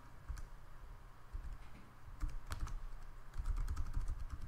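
Typing on a computer keyboard, a quick run of light key clicks in uneven bursts, close and fairly quiet against a soft background hum.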